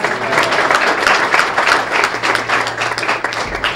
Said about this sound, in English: you can all give him a great round of applause